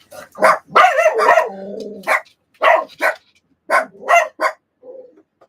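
Several dogs at an RV park bark in a series of close, loud bursts, some yapping and growling, with short pauses between volleys and no talking.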